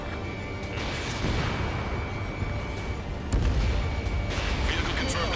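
Missile launches and explosions in the combat flight game Ace Combat 7, with dense booming blasts and rumbling over continuous jet noise, a heavier burst near the end, mixed with radio chatter.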